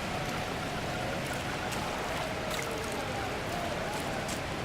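A waterfall in the Dragon Age Inquisition video game pours in a continuous broadband rush, steady and fairly loud with no pauses.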